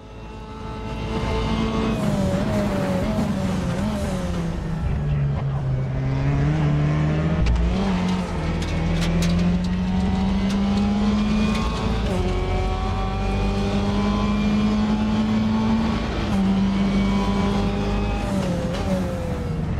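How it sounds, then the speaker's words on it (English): A Mazda MX-5 in the racing sim RaceRoom revs loudly through rising and falling gears, its engine note droning steadily with wind noise of an open cockpit underneath. "Doesn't that engine's note sound fantastic?"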